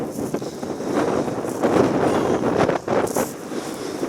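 Wind gusting hard across an open wild camping spot in wet, windy weather, a steady broadband roar buffeting the microphone with surges and brief lulls, loud and close throughout with no talk.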